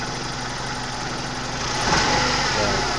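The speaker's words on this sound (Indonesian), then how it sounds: "Ini coba kita gas dulu" The engine of a 1997 Suzuki Baleno running rough with a misfire idles unevenly, then rises slightly louder as it is revved, the hum staying close and shaky.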